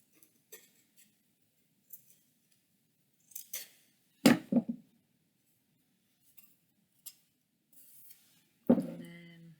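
Scissors trim paper or tissue paper during a photo-to-wood craft project, heard as a few separate crisp snips and clicks with quiet gaps between them and one louder cut near the end.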